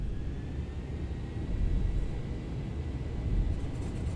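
Boeing 737 engines spooled to takeoff thrust in the X-Plane simulator, a steady broadband roar and low rumble building slightly, heard from the cockpit without talk.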